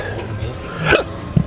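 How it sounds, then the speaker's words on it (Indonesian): A single hiccup from someone eating spicy Indonesian street food, fried bala-bala fritters and chicken, at a late-night warung, short and close, with the room's background noise around it. "Udah mulai cegukan berarti beneran pedes."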